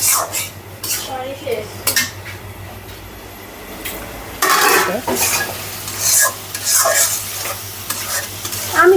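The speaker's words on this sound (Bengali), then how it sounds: "মশলার সঙ্গে কষিয়ে নেব মাছগুলো দিয়ে চিংড়ি মাছ" Fish and shrimp fry with spices in a pan as a metal utensil scrapes and clatters repeatedly against it, loud and close over steady sizzling and a low hum.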